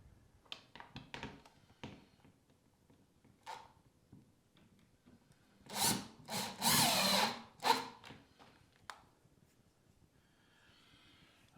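A power drill drives screws into a wooden Dutch door on a vardo gypsy wagon. Short clicks and handling noises lead into a loud whirring burst of a couple of seconds near the middle, followed by a few light taps.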